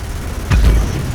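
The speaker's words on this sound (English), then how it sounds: "Fire the missiles." A single muffled boom from missiles firing and exploding in the space combat game EVE Valkyrie, one short low thud rising briefly over a steady engine-like rumble.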